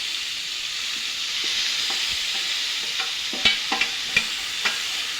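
Rice fries in a hot pan with a steady sizzle, while a spoon stirs and scrapes it now and then with light clinks, close by and with no talking.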